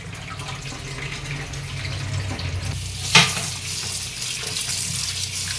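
Water runs steadily from a tap into a sink while meat is washed of blood, with a brief clatter partway through as the meat is handled under the stream.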